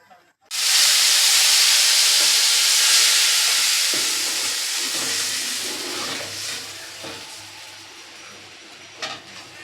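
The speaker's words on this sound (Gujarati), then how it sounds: "તો કઢીનો વઘાર હવે મારી દીધો।" Spices are tempered in hot oil for kadhi: the oil bursts into a sudden loud sizzle that slowly fades to a softer crackle over several seconds.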